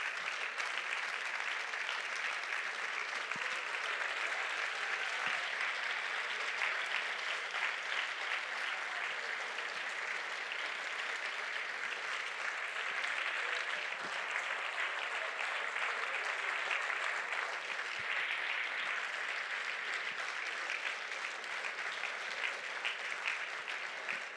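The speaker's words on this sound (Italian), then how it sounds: "Questo applauso è molto bello" Sustained applause from a film festival audience at an outdoor screening event, steady and dense clapping throughout at a distance, with no talk over it.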